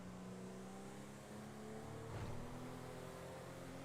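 A Toyota Supra speeding past in a GTA FiveM roleplay patrol, its engine a faint steady drone that swells briefly as it passes, heard alone without talk.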